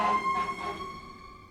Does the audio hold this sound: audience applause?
no